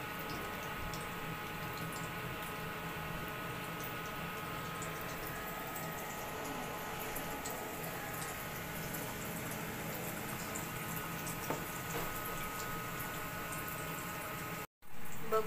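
Vada frying in hot oil gives off a steady, soft, even sizzle that runs without a break, with a brief cut near the end.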